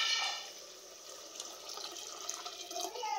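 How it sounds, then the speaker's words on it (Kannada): Hot water poured into frying rice for vegetable biryani in a home kitchen: a steady, close splashing stream of liquid, loudest at the start, then a continuous watery rush with small burbles. No talking. "ನಾನು ಈ ಟೈಮ್ನಲ್ಲಿ ಬಿಸಿನೀರನ್ನು ಹಾಕ್ಕೊಳ್ತಾ ಇದ್ದೀನಿ"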